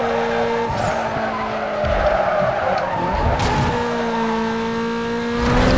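A race car in Need for Speed: Most Wanted roars and accelerates with tires squealing and skidding, the engine note rising and shifting steadily throughout, loud and close with no talk over it.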